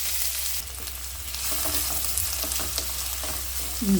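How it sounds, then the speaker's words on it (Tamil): Oil sizzles and crackles steadily in a pan as onions fry, a close, continuous hiss with occasional faint stirring. "வெங்காயம் நல்லா எண்ணெயில் சூப்பராக வதங்கணுங்க"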